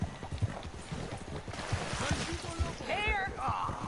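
Horse hooves clip-clop in Red Dead Redemption 2 in the city of Saint Denis, a steady run of soft thuds under busy ambient noise, and a brief whinny-like warble near the end.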